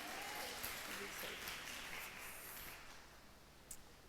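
A congregation applauds together during a women's church service, a steady wash of clapping that carries for a few seconds and slowly thins toward the end.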